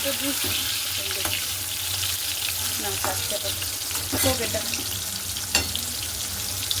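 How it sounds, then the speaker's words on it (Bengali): Fish sizzles loudly in a hot pan, a close, crackling frying hiss with occasional scrapes and clinks of stirring, and a faint voice in the background. "তো এই যে মেয়ের জন্য মাছ ভাজাটা তুলে নিলাম"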